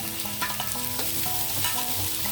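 Mixed vegetables with potato fry in a pan as curry leaves and coriander go in, giving a loud, close, continuous sizzle broken by scraping stirs, with no talk.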